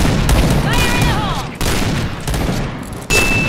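Gunfire in the Point Blank shooter game, bursts of rapid shots that stop and start again over a few seconds, sitting under the game's sound effects.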